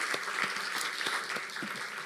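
A church congregation at a Wednesday revival service claps together for the ushers, a dense, steady round of applause sustained throughout, filling the room.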